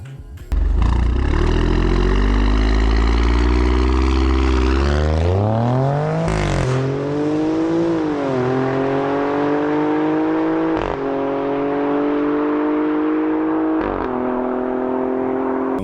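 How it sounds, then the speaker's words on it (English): An Alfa Romeo crossover's V6 revs up in rising, falling sweeps, loud and close, with a few sharp shifts between pulls and no talking. "This thing sounds amazing with that V6."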